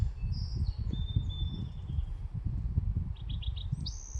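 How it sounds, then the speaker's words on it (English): Several birds sing and chirp outdoors with bright, repeated high calls and short tweets scattered throughout, set over a steady low rumble of background noise; no one speaks. "Oh, listen to those birds."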